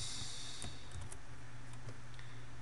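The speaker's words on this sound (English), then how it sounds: "let's go ahead and type in the address" Quiet, sparse keystrokes as an address is typed on a computer keyboard, a few irregular clicks over a steady electrical hum.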